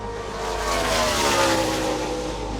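Roaring car engines in a trailer-style sound effect swell to a loud, sustained rumble with rising revs, alone with no talk.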